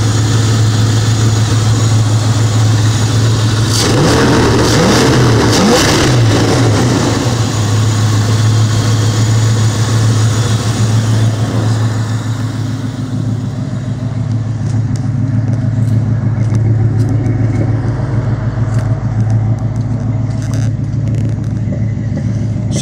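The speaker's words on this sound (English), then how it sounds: "She runs true dual exhaust. It's Flowmaster 50 series, and it is legitimate Flowmaster 50 series mufflers on it." A 1989 Dodge Ramcharger V8 with true dual exhaust through Flowmaster 50 series mufflers idles with a steady, loud low rumble, a brief blip of revs early on, then settling back to an even burble with no talking.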